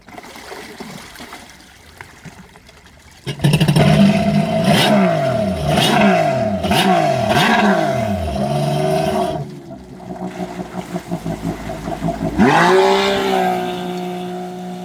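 Yamaha four-stroke SuperJet stand-up jet ski with a CrossOver pipe, idling quietly, then bursting into loud revving with rapid rising and falling pitch sweeps, easing off, then surging hard again with water splashing around it.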